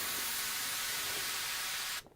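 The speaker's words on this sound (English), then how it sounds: "there's these kind of white noise samples" White noise samples in an electronic music track, a dense, steady bright hiss filling the top end that runs loud and unbroken for about two seconds, then cuts off abruptly.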